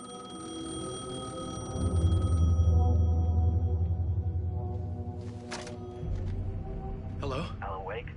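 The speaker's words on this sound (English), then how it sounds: "Phone was ringing." A telephone rings with steady, sustained electronic tones in the video game Alan Wake 2, set against a low droning ambience, before the ringing gives way to voices talking.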